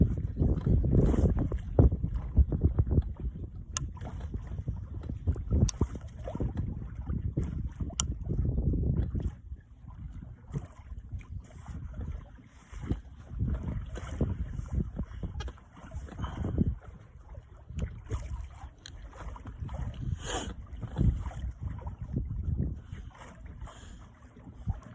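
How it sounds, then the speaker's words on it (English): Gusty wind over Merrill Lake, north of Campbell River, buffets a small fishing boat, with low rumbling microphone buffeting in uneven bursts and lighter stretches between, close and fairly loud. "Cool wind. Yeah, that is a pretty cool wind."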